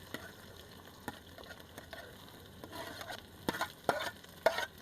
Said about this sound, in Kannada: ತರಕಾರಿ ಹಾಕಿ ಚುಮ್ಮ ಅಂತದೆ.